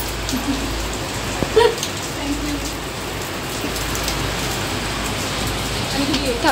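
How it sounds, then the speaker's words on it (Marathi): Heavy rain pours steadily, a dense constant hiss of drops on surfaces, with a few brief louder knocks early on. "पाऊस सुरू झालाय आमच्या इकडे खूप."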